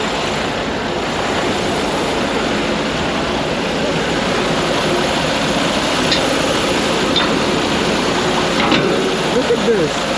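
A broken-down truck's engine, restarted after a failed start, runs loud and steady with a continuous low rumble and broad mechanical roar, close by and without a break.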